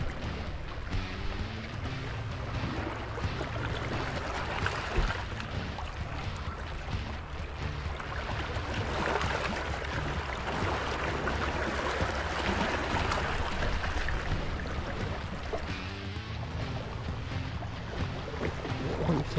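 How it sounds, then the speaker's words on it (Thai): Strong water current rushes steadily past a boat during a grouper fishing trip, a dense, continuous close wash of flowing water with wind noise, alone without talk. "น้ำไหลแรงมาก"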